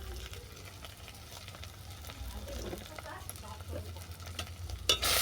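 Spices with turmeric and chili powder are stir-fried in a pan, with soft scraping stirs over a quiet sizzle, ending in a louder clatter.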